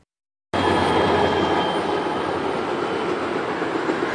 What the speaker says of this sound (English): CSX trains on the move behind the Heisley Park subdivision in Painesville.